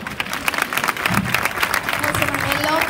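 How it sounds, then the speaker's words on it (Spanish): Steady applause from an audience at a secondary school graduation ceremony as teachers come up to hand out diplomas, dense clapping with some voices mixed in. "un aplauso"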